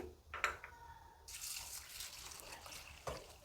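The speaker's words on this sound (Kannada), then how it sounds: "ಎರಡು ಮೂರು ಸಲ ತೊಳೆದ್ಬಿಟ್ಟು ನೀರು ಹಾಕಿ ನೆನೆ ಹಾಕ್ತೀನಿ" Water is poured into a bowl of washed rice, urad dal, fenugreek and dried Byadgi chillies to soak for tomato dosa batter. A few drips come first, then a continuous, moderately loud pouring stream, with no talk.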